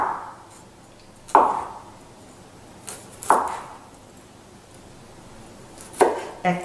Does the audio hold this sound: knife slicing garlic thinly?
yes